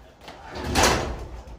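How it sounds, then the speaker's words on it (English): A residential garage door is opened by hand with one broad, rolling whoosh that swells and then fades over about two seconds. The sound is fairly close and has no talking over it. "First, I need to open up the garage door."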